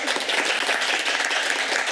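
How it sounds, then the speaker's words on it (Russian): A studio audience applauds, a dense, steady wash of many hands clapping at once, fairly loud and continuous throughout. "Можете аплодировать. Аплодируйте."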